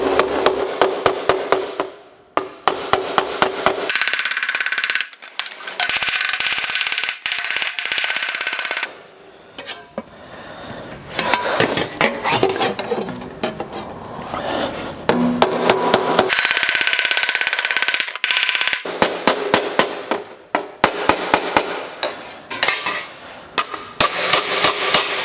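Hammering on a metal body panel during Sunbeam Rapier fabrication: bursts of rapid, sharp metallic blows in quick rhythmic runs, loud and close, separated by short pauses with clattering in between.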